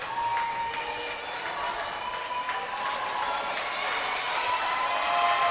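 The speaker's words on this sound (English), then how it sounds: "Listen to this crowd rooting for Izzy Staffschulte for Waterloo." Spectators cheering at a Cedar Falls versus Waterloo girls' swimming meet, a fairly distant, continuous roar of voices and scattered shouts echoing around the pool.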